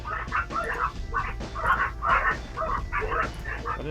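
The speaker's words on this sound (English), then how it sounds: "That is tiny yappy dogs." Tiny yappy dogs barking in a rapid, continuous string of high, sharp yaps, several dogs overlapping at moderate distance in the background of an outdoor run, with steady ambient rumble underneath.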